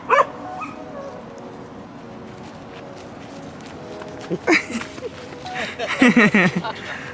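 A dog on a rural farm gives a few short, sharp barks toward the end, following quieter rustling and footsteps, moderately close against a low background hum.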